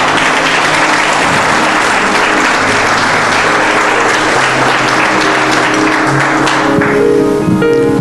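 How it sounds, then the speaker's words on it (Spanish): Church congregation applauding loudly and continuously, dense clapping that tapers slightly as sustained tones and a voice emerge toward the end. "Dale un aplauso al Señor, por favor."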